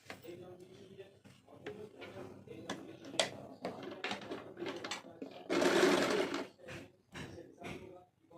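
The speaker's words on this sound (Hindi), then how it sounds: "तो देखिए ये हम स्टिच कर लिए हैं।" A sewing machine stitches a red ethnic print fabric handbag, with quiet rapid ticking bursts and a louder run of steady stitching near the end, while someone talks softly nearby.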